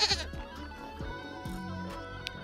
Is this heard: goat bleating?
yes